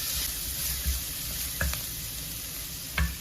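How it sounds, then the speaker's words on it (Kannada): Chopped onions fry in hot tempering oil for a Kannada horse gram bassaru, giving a steady, soft sizzle with a few sharp clinks of stirring scattered through. "ಈಗ ಈರುಳ್ಳಿನ ಸ್ವಲ್ಪ ಈ ಹಸಿ ಅಂಶ ಹೋಗೋವರೆಗೆ ಚೆನ್ನಾಗಿ ಒಗ್ಗರಣೆಯಲ್ಲಿ ಈ ರೀತಿ ಫ್ರೈ ಮಾಡ್ಕೊಳ್ತಾ ಇದ್ದೀನಿ."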